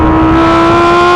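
A Lamborghini Huracan EVO RWD Spyder with a naturally aspirated V10 gives a loud, close, sustained high-rpm engine note in a brief burst.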